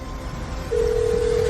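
A single steady telephone tone starts partway through and holds to the end, close and clear over a faint background hiss, as she places a call.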